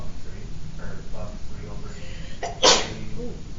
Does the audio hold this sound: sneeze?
yes